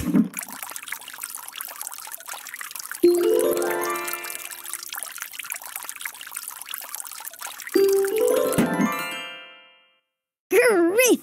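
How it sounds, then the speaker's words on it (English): Cartoon water trickles and pours as plants are watered in a Daniel Tiger children's video game, two long splashy streams with rising chime tones, then a brief pause and a wobbly sparkle effect. "I'm watering the plants to help them grow."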